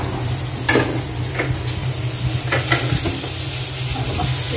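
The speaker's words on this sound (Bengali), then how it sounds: "ভাজি বসাই দিলাম" A vegetable bhaji frying in a pan, loud constant sizzling close by with intermittent scraping strokes of a spoon stirring through it.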